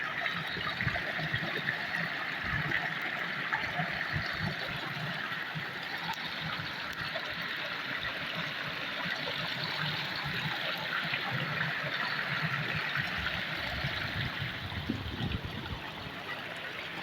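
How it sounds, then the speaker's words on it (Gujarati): Water running out through a channel outdoors in a crab-catching spot, a steady close gush and trickle that carries on without a break. "અહીંયા પાણી જાય એમ"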